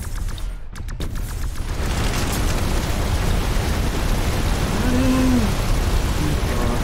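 A burst of sharp explosive cracks near the start in the video game The Riftbreaker, followed by a dense, sustained rumble of distant blasts and crackling debris.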